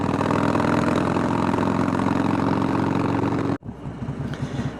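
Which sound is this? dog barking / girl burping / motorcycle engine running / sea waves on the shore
motorcycle engine running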